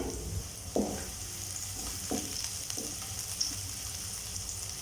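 Onions and vegetables for Gobi Manchurian sauté quietly in a pan, a low steady hiss with a few soft stirring knocks, fairly faint and close, no voices.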